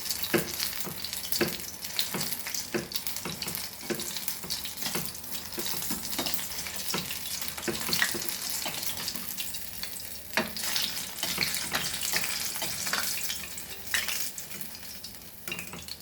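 Battered prawn tempura fries in hot oil, a dense steady sizzle and crackle that runs on without pause, punctuated by occasional sharper pops and stirring clinks.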